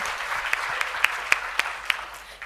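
Thin applause at a Korean and Cold War veterans' government briefing: a handful of spaced, crisp claps over a soft room hiss, fairly quiet, with no talking heard.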